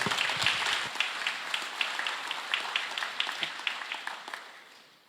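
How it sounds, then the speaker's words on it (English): Applause at a formal diplomatic ceremony for a compact review agreement, greeting a special presidential envoy: moderate clapping from a modest audience that gradually thins and fades out over about five seconds. "Please give him a round of applause"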